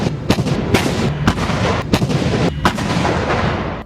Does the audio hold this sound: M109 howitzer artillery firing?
yes